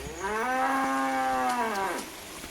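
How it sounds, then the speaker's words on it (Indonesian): A water buffalo lets out one long, drawn-out moo in a village on a hillside in Palupuh, Agam, clear and fairly close, with a falling tail and no voices. "atau mungkin suara kerbau di siang bolong"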